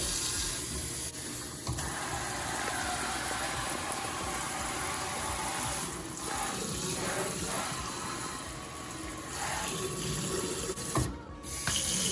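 A kitchen faucet runs hot and cold water steadily to bleed air from the lines, a constant hiss of water splashing into a sink, close and continuous, briefly faltering near the end.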